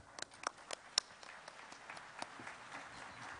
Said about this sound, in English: Let's thank Dr.